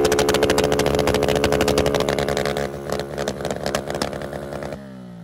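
A motorcycle engine fitted with an Athlon ignition module, revving hard at high, buzzing, rapid pulses, then the revs dropping and the engine cutting to a low idle near the end, loud and close.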